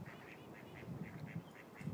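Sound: mallard ducks quacking

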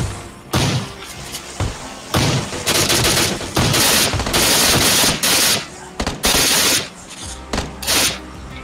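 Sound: gunfire in a video game

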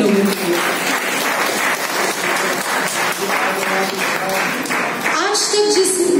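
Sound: audience applause

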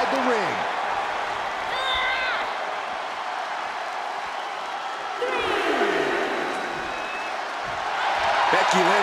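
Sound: wrestling crowd cheering in WWE 2K23 video game

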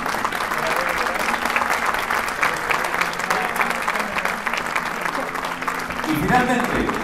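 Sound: audience applause at dance gala

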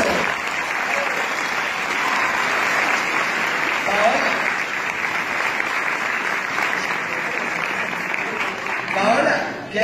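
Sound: audience applause

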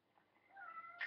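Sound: cat meowing

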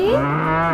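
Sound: cow mooing

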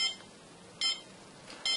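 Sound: Arduino irrigation system dry soil alarm beeping

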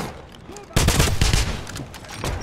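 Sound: suppressing gunfire in the video game Wolfenstein

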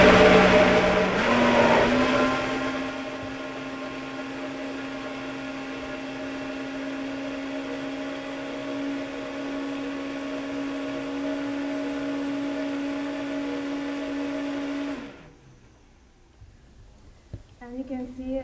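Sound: Vitamix blender blending a sweet spread

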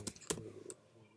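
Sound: typing on a computer keyboard

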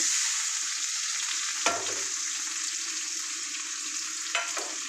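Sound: onions and chillies frying in ghee

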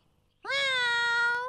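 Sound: cat meowing

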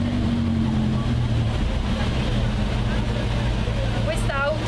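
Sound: historic rally car departing from the start

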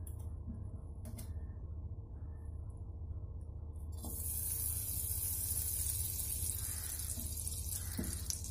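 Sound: adding more ghee into the kadhai

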